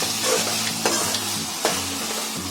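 Bay leaf, onion and tomato fry in a pan for a chicken dish, a continuous sizzle broken by a few scraping stirs.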